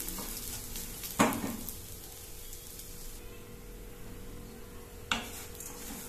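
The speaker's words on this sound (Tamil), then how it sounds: "180 கிராம் கருப்பு உளுந்து நல்லா சவக்க வறுத்துக்கணுங்க." Black urad dal, about 180 grams, dry roasting in a pan, giving a steady faint crackling hiss with two sharper scraping stirs, one early and one near the end.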